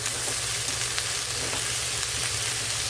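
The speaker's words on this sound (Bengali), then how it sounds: "আর পেঁয়াজটা হালকা হালকা ব্রাউন করে প্রথমে আমি ভেজে নেব" Chopped onions fry in a pan with oil, giving a steady, even sizzle and crackle throughout, close and alone without any voices.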